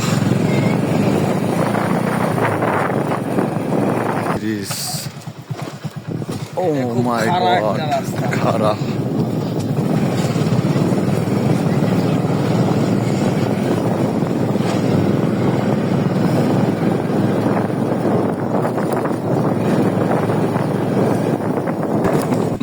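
A motorcycle labours up a steep, rough village path in Manikganj, its loud, droning engine roar mixed with heavy wind buffeting on the microphone, briefly dipping midway while people talk and exclaim over it.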